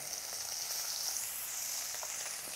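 Scallops sear in a hot stainless steel pan, a continuous bright hiss of sizzling oil, steady and close, with no voices.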